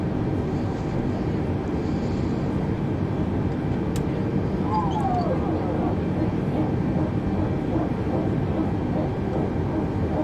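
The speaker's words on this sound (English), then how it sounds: "And now we're just waiting for the engine to stabilize." Airbus A320neo engine spooling up and stabilising during start in Microsoft Flight Simulator 2020, heard from the cockpit as a steady, loud turbine roar with a brief rising whine partway through.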